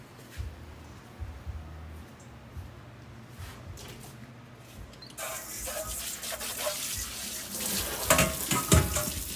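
Lemon-marinated fish rinsed under running tap water at a sink, a steady broadband rush that swells after the first few seconds and grows louder with splashing toward the end; no talking.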